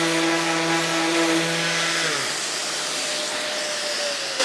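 A power sander runs on wood in a workshop, a loud steady whirring buzz with a motor tone that drops as it winds down midway, followed by broad hissing noise.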